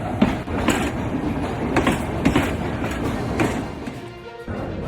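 A mountain railway train in Tamil Nadu runs steadily along the track, with a continuous rumbling roll and rhythmic clickety-clack of wheels over rail joints, heard close and fairly loud throughout.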